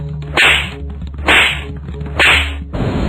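Three loud, sharp slap sound effects land about a second apart in a Hindi animated moral story, each a crisp whip-like crack with a brief swish, with no voices.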